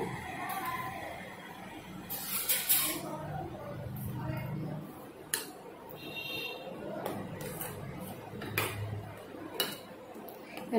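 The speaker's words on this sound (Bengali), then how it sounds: "এবার একটা চামচ দিয়ে একটু নাড়াচাড়া করে দেব" A spoon stirs spiced potol (pointed gourd) in a pot, giving soft scrapes and light metallic clinks at irregular intervals, with quiet kitchen background and some talking in a low murmur.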